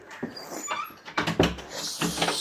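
A dog whimpers and yips in short, uneven bursts, close and fairly loud, mixed with some rustling and knocking in a home.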